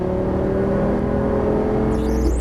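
A Lamborghini Gallardo Superleggera LP570-4 pulls away on a race track, its engine a loud, steady droning hum that climbs gently in pitch as it accelerates, heard close throughout.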